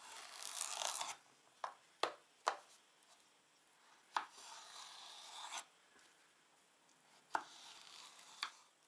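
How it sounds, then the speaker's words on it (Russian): A knife cuts a large cucumber into quarters, giving several sharp, separate chops against a board at an uneven pace, close and clear in a quiet kitchen. "Огурец у меня довольно крупный, нарезаю его четвертинками."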